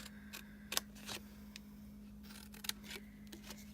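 Paper snips cutting through the corner of a square paper card for a spring craft project: a few quiet, crisp snips spaced apart over a steady low electrical hum, with no talking.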